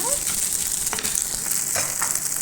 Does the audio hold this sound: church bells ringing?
no